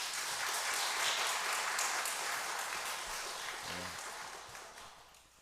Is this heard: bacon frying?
no